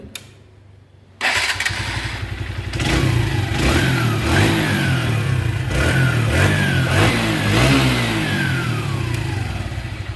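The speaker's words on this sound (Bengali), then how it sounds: "এখন আপনারা ইঞ্জিনের সাউন্ড শুনবেন" After a quiet second, a motorcycle with a freshly rebuilt engine, including new piston and rings, starts up and settles into a loud, close idle, then revs several times with rising and falling pitch.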